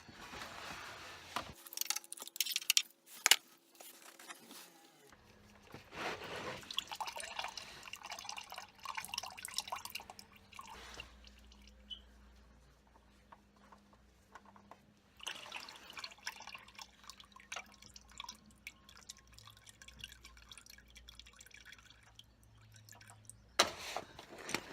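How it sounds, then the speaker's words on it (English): Engine oil dripping from the drain plug of a Toyota Celica during routine maintenance, faint scattered drips and small splashes into a pan, irregular and quiet with occasional clatter. "Let's put the drain plug back in, stop it dripping."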